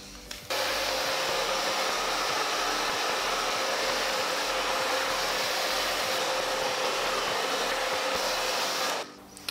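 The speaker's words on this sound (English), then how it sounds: "I'm actually gonna take the blow dryer to it." A hair dryer roars steadily at close range, a continuous whooshing blast that starts abruptly and cuts off near the end, with no talking.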